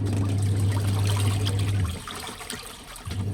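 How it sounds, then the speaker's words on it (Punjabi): A washing machine drains rinse water after washing a double-bed blanket: water gushes and trickles out under a low machine hum that cuts off partway through, leaving a quieter dribbling flow. "ਜਿਹੜਾ ਸਾਫ਼ ਪਾਣੀ ਹੈ ਇਹਨੂੰ ਵੀ ਹੁਣ ਆਪਾਂ ਨੇ ਬਾਹਰ ਕੱਢ ਦੇਣਾ ਹੈ"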